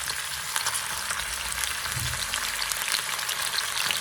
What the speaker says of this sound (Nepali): टपिङ्सको लागि चाहिँ चिकन फ्राई गर्ने